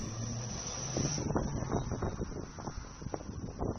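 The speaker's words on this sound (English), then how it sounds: "As you can see, it's quite windy out there. It's blowing the camera around." Gusty wind buffets the microphone with low rumbling bursts and flutter aboard a cruise ship departing the Port of Southampton, steady throughout with no voices.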